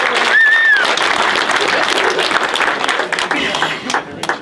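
A theater crowd in Olds, Alberta cheers and applauds Canadian Olympic wrestlers at the Rio Olympics, including gold medalist Erica Wiebe. The clapping and crowd noise stay dense and steady throughout, with a brief whistle near the start.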